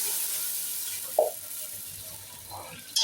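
Water is poured into a pan of browned, fried onions for a beef raan and rice dish, giving a hissing sizzle with short splashy bursts from the hot pan, close and moderately loud.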